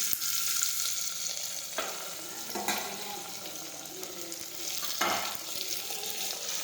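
Cluster beans fry in hot oil with mustard seeds, cumin and asafoetida, a soft continuous sizzle with a few scraping stirs of a spoon in the pan, quiet and close, without speech.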